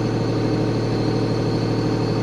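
A big Kubota tractor of over 100 horsepower idles steadily nearby, a constant low engine drone with no break and no voices.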